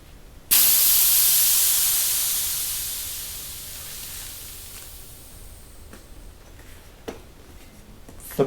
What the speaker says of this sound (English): If your tire is not already flat, you need to start out by letting the air out.